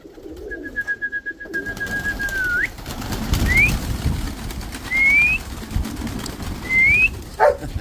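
Pigeons flying and cooing around a loft, with soft wing flutters and low cooing plus a few high whistled tones repeating every couple of seconds, fairly close and without speech.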